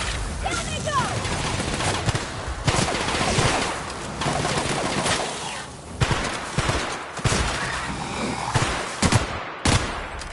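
Sustained gunfire in The Outer Worlds video game, dense bursts of automatic shots and impacts rattling continuously for ten seconds, loud and close, with game voices speaking over the shooting.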